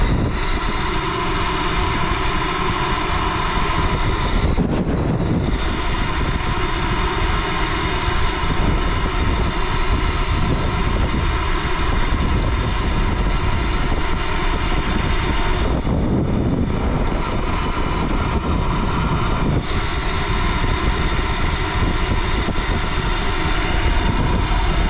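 A first jet, likely a turbine-powered model aircraft, runs steadily throughout a taxi test, its broadband roar and whine loud and continuous with brief dips in tone near five and sixteen seconds.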